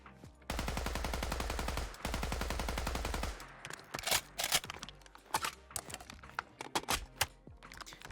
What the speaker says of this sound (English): So I'll go ahead and show off a reload for you right now